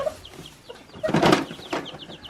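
Broody hen with two-day-old chicks tucked under her wings, giving soft scattered clucks with a louder burst of fowl calls in the middle, close by.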